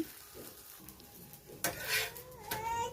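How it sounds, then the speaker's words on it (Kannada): Holige flatbread cooking in oil on a pan, a soft steady sizzle broken by a few sharp metallic scrapes and clinks of a utensil against the pan near the end. "ಈ ಮೇಲ್ಗಡೆ ಸ್ವಲ್ಪ ಎಣ್ಣೆ ಹಾಕ್ಕೊಂಡ್ಬಿಟ್ಟು ನಾನು ಎರಡು ಕಡೆಯೂ ಈಗ ಬೇಯಿಸ್ಕೊಡ್ತಾ ಇದ್ದೀನಿ"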